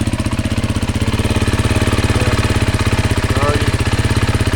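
A 2022 Beta 430 RR-S motorcycle engine runs steadily at idle, a loud close-up single-cylinder thump with an even, rapid pulse that holds for the whole stretch.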